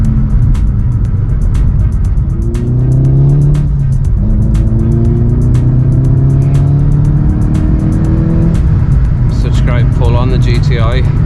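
A 315 hp VW Golf GTI MK7.5 pulls hard from inside the cabin, its engine note climbing steadily through gears with clear upshift breaks, loud and close, with a voice briefly at the end.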